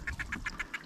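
Mandi catfish caught in a sieve, giving a quick run of about seven short, evenly spaced croaks, close by and clear against faint water noise.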